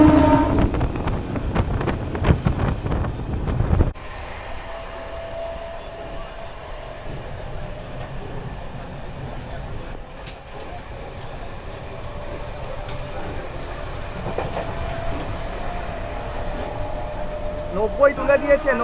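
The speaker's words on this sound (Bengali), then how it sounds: "ট্রেন কিন্তু ভালো স্পিডে চলছে।" Puri local train from Kolkata running at speed, with a loud rattling clatter at first, then a steadier interior rumble and hum that lasts to the end while a voice talks over it.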